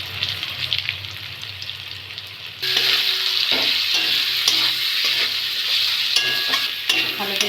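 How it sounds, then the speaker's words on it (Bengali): Potatoes with chilli, coriander and cumin powder and salt, cooked with prawns, sizzle in a hot pan while being stirred, a steady close frying hiss that jumps louder midway with intermittent scraping strokes. "ভালো করে কষে নেবো।"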